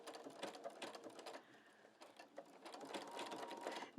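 Domestic sewing machine stitches a quilt block in short bursts, pausing briefly to pivot the fabric before running again, fairly quiet and close with a light mechanical clatter.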